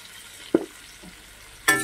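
Sliced capsicum strips tossed into a pan with carrot: a soft knock and brief stir, a quiet pause, then a sudden loud burst of frying sizzle near the end.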